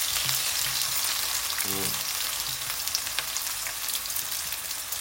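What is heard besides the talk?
small onions frying in hot oil in a pan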